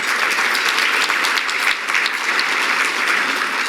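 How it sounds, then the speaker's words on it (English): Gala audience applauding the event's organizing committee, a full, even round of clapping from a large room that continues steadily with no speech over it. "Please give them a round of applause."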